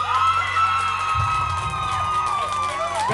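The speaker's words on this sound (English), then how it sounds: "Big round of applause for Claire." Audience at a talent show semi-final cheering and whooping for a contestant, a loud crowd roar with shouts layered over a sustained tone.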